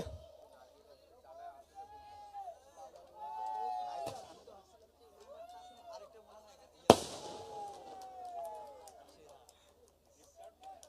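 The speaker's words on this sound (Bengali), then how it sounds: "এই আমার আতশবাজি কই" Fireworks nearby at a university football trophy ceremony: whistling rockets rise, then two sharp bangs burst with crackle, while voices chatter faintly in the background.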